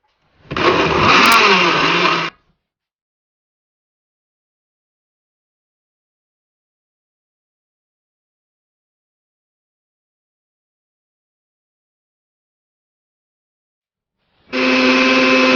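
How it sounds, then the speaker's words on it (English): A blender making callaloo juice whirs loudly for about two seconds, then silence, then the motor starts up again near the end. "so I'm going to turn on the blender now."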